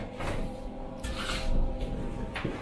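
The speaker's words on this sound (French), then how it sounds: "les portes qui se coulissent de manière à vraiment être dedans, de pas éclabousser partout" Sliding glass shower doors on a shower-style tub in a furnished Paris apartment, moved along their track with a few rolling scrapes and soft bumps, close and fairly loud.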